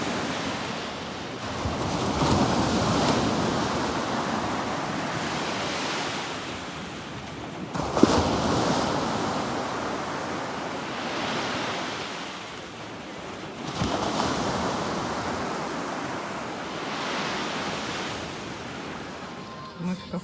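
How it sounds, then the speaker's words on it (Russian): Sea surf at Zelenogradsk, waves rolling in and washing out in slow, broad surges roughly every six seconds, with wind noise across the microphone. "Приятный шум моря."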